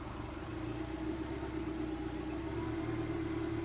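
A 2014 Mercury 150 outboard engine runs steadily at about 1,000 rpm, a continuous loud low droning hum with an even, unbroken tone and no speech.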